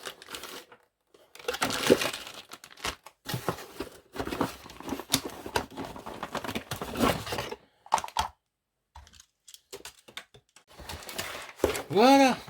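Cardboard box for a 1/18-scale RC car being torn and ripped open by hand, with bursts of crinkling and tearing broken by short pauses, up close.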